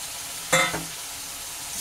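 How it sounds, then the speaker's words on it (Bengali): Fried prawns tipped into spice paste sizzling in oil, a sudden loud burst of sizzle and clatter as they drop in, settling into a steady background fry with a gentle stir. "এখন এই অবস্থায় আমি এই যে ভাজা চিংড়িগুলো, সাতলানো চিংড়িগুলো এর মধ্যে দিয়ে দিচ্ছি"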